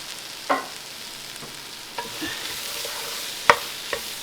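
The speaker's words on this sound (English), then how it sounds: "give those a stir up, and we're going to want to let these cook down a little bit" Leeks cooking down in a little oil in a pot for potato leek soup: a soft continuous sizzle with a handful of spoon scrapes and clacks as they are stirred, close by and with no talking.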